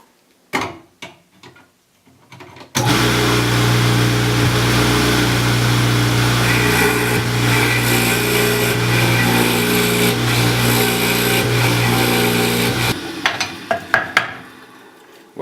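Machine cutting mortises in wood runs in one loud, sustained buzzing whine for about ten seconds, preceded and followed by light tapping and handling knocks nearby.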